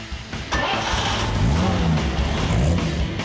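A 1951 Chevy belonging to Steve McQueen starts and pulls away, its engine rising to a steady, close, loud rumble that revs slightly as the car gets moving, with no talking over it.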